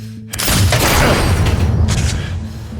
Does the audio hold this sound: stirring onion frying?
no